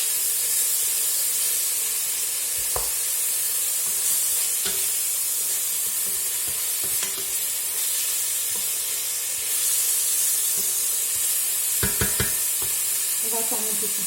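Peppers, onion and garlic sizzle in a hot pan, a steady hissing fry that runs the whole time, with a few brief clicks and scrapes of stirring near the end.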